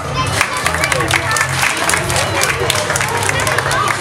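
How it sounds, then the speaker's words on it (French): Loud audience applause at a cabaret evening with steady clapping and crowd noise, a dense wash of hands from a nearby group, murmuring voices mixed in throughout. "Allez, on peut applaudir Quentin."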